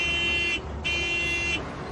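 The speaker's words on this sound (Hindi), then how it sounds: "हॉर्न काय को बजा रहा है?" Cartoon car horn blaring loudly in two sustained blasts with a short gap between them, a flat buzzy tone standing alone with no talk.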